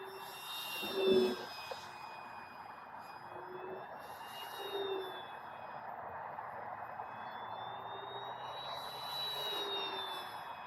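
FMS CJ6 Nanchang RC warbird model plane flies overhead, its motor a thin, sustained whine that rises and fades as it passes, quiet and distant against background hiss.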